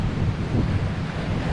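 Gusty wind at Manila Bay rumbles across the microphone with the wash of waves underneath, a constant, loud outdoor roar under an overcast sky.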